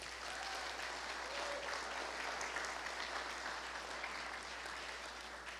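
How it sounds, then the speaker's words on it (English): An audience applauds the Unitarian Universalist Fellowship of Gainesville, hosts of an evening event, in a dense, even, moderately soft wash of clapping that holds steady throughout with a faint low hum underneath. "Could we please give them a warm round of applause?"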